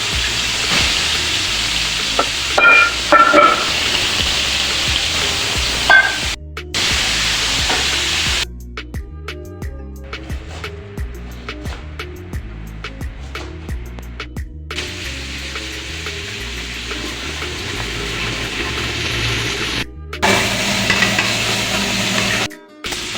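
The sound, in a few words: chicken pieces frying in hot oil for biryani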